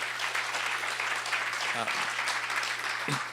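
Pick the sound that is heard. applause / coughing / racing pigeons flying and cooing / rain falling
applause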